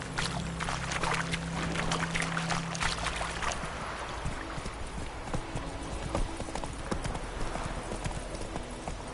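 Horse hooves clip-clopping at a steady trot in the video game The Witcher 3, loud and continuous throughout, with a low hum and rustle underneath.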